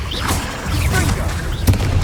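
Confringo spell blasts in the video game Hogwarts Legacy, a loud, dense rumble of booms and whooshing magical effects, with a sharp crack near the end amid the busy battle din.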